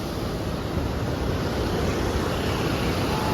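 Water rushes from the opened Mettur Dam like a waterfall in a loud, constant roar with no pauses, filling the whole scene like a nearby torrent.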